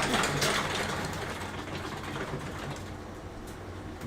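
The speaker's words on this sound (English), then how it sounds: "I'm in the garage, so that's the sound of the garage door opening" A garage door rumbles and grinds steadily as it opens, a continuous mechanical whir with a faint ratcheting texture heard up close without speech.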